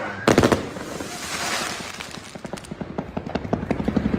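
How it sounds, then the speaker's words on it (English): A big mortar firework goes off in a neighborhood during New Year's fireworks. One sharp, loud blast is followed by a long run of quick crackling pops and bangs that grow denser toward the end. "Shooting off this big mortar in a neighborhood."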